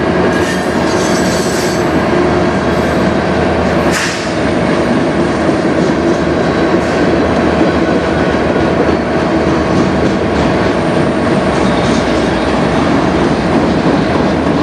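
A CN freight on the Strathroy Subdivision in Sarnia, Ontario, rolls by close and loud, with a continuous heavy roar of wheels and cars, a steady clatter and occasional squeals, and no talk over it.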